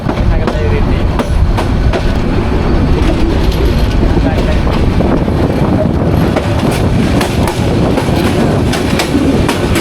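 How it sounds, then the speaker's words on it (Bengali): The Bijoy Express pulls away from a station in Bangladesh, with loud, continuous rumbling and rhythmic clickety-clack of wheels over rail joints heard from on board for about ten seconds. "এখন আবার ছেড়ে দিল এক্সপ্রেস জামালপুরের উদ্দেশ্যে"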